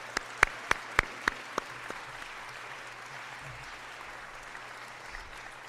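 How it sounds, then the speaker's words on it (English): Applause at a senior awards night, a handful of sharp, evenly spaced claps close by over a quiet room hum, then fading into low ambient crowd noise. "Let's have one final round of applause for our nominees and for all of you tonight."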